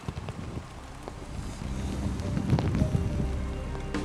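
Cold rain and wind sweep over the Boston Marathon finish area at Copley Square in 2007: a steady, close hiss with scattered patters and light clatter that swells louder and gustier through the second half.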